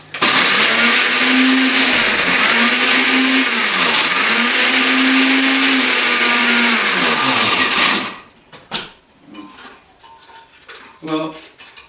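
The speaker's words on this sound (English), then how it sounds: "Don't put your hand in the blender and turn the blender on, like I just did." A kitchen blender whirs loudly for about eight seconds while making strawberry cheesecake, its pitch dipping and rising as the load shifts, then it stops, leaving scattered clinks and handling noises.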